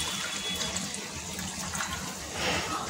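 Water streams into a pan of soya curry, a continuous splashing pour that holds steady for the whole stretch and swells slightly near the end, close and fairly loud.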